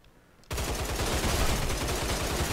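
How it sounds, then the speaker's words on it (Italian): Rapid automatic gunfire in a first-person shooter game bursts in abruptly after a quiet half-second, a loud continuous stream of shots with a fast rhythmic low thudding. "mi spari, mi prendi dritto in testa"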